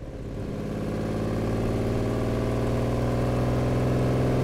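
Lamborghini Countach engine running steadily and loud close by, a deep even mechanical drone that swells slightly as it goes on, with no voices over it.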